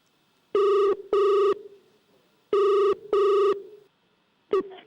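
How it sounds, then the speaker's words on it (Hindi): A telephone on a comedy stage show rings for a live call: two loud double rings, a pause, two more, then the start of a fifth ring cut short, with no talk. "वो करेंगे एक live phone call struggling actress सुरीली को"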